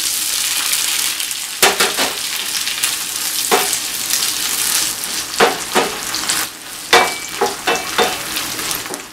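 Beans sizzling loudly in a hot pan for gordas calzadas, a dense, continuous frying hiss punctuated by repeated sharp scrapes and knocks of a spoon stirring them, close and without talk.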